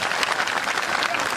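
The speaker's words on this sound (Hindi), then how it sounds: "तालियां जोर से होनी चाहिए।" An audience at a school annual day celebration bursts into dense, steady applause, many hands clapping loudly and continuously throughout, with no break and no talk over it.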